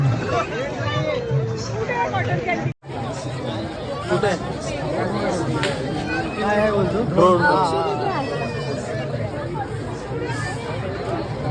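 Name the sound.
crowd babble at a village fair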